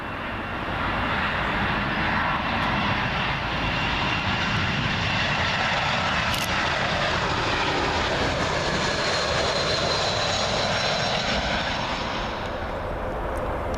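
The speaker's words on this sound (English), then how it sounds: "next up, British Airways A320, coming in from Vienna" A British Airways Airbus A320 arriving from Vienna lands on runway 27L at Heathrow, its engines making a loud, steady, broadband roar that stays close and constant throughout, with no voices.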